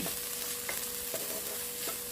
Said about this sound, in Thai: ก็จะผัดหอมหัวใหญ่นี่ค่ะ จนสุกใส